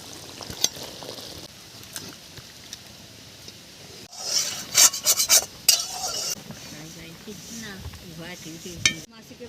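Fish curry scraped and stirred with a metal spoon in a pan, then lifted off the stove, with soft sizzling beneath and a burst of louder clanking scrapes midway; faint talk in the background.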